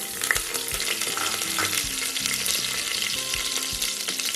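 Fennel seeds and curry leaves fry in hot oil inside a pressure cooker for a village-style goat head curry, giving a steady close sizzle with faint crackles and spatters throughout, no voices.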